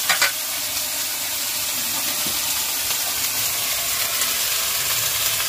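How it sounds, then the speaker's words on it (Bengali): Onion, garlic, green chili and panch phoron fry in hot oil in a home village kitchen, giving a steady, close, continuous sizzle with no talk over it. "এরপরে পেঁয়াজ রসুন, হ্যাঁ, কাঁচা লঙ্কা আর পাঁচফোড়ন দিয়েছি। দিয়ে এটা ভাজা"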